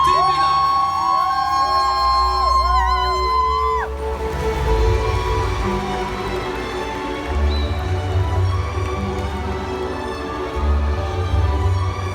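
At a convention ceremony honoring new elite executives, a large crowd cheers and applauds in a sustained, dense wash of noise after music fades, with loud bass thumps pulsing underneath.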